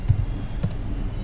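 Number keys on a computer keyboard are tapped a few times in quick, soft clicks, close and fairly quiet over a steady low room hum.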